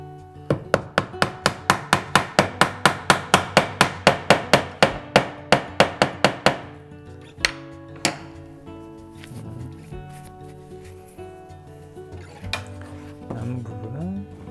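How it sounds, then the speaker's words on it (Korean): A hammer drives a nail with a rapid, even series of about twenty ringing blows that gradually turn duller as the nail sets, then a few isolated knocks follow amid quieter handling sounds. "명쾌한 소리가 들리는데 다 들어가면 둔탁한 소리가 들립니다"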